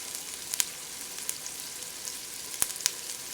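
Mushrooms and thyme sizzle quietly in a pan, a soft continuous frying hiss punctuated by a few sharp crackles and pops.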